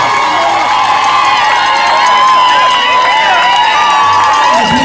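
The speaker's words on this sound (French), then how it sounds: "Applaudissez, applaudissez, applaudissez, applaudissez" Guests at a civil wedding in Kinshasa cheer and shout over a steady wash of applause, with loud, sustained crowd noise and high voices ululating and calling out close by.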